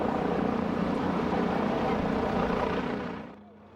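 A Douglas DC-3 propeller airliner takes off at an air show at Malmi, its engines a loud, droning roar that holds steady and then fades quickly away near the end.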